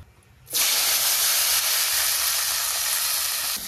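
Cumin, vegetable stalks and potato dropped into hot oil burst into a loud, sudden hissing sizzle after a quiet moment, then crackle steadily and close up.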